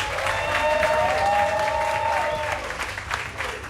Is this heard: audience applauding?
yes